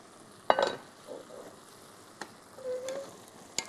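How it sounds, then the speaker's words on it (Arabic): Vegetables for a Turkish soup sizzling in a pot as they are stirred, with a scrape and clink of the utensil, a steady frying hiss and a few sharper knocks, close and fairly quiet. "نحرك هذوك الخضروات، شوفوا الشكل تاعهم راهم دبالو"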